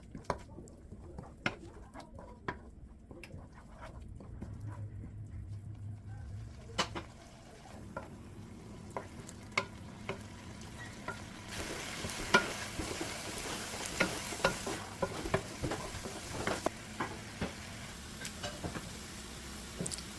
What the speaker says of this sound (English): That is the garlic, ginger. Fry it until everything is well cooked,